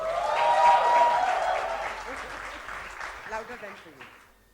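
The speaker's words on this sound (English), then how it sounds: "Please, round of applause for Ranjana" Applause from a ballroom audience for a speaker named Ranjana at an Ignite talk event, swelling loudly at first then fading over a few seconds, with voices and cheering mixed into the clapping.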